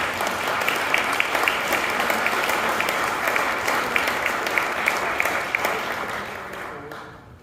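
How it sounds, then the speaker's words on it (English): Sustained applause from a large audience at a national healthy housing awards ceremony, dense steady clapping throughout that tapers off in the final second, with no voices heard. "a big round of applause for Salford City Council as well"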